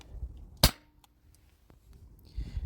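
A Sabre 68 CO2 home defense launcher fires a single rubber ball with one sharp, loud pop, followed by faint handling noise.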